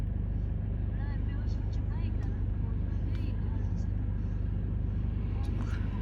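A CRPF convoy of trucks rolls past on a snowy Pahalgam street, a steady, loud engine rumble and tyre noise continuing throughout with a few faint higher clatters.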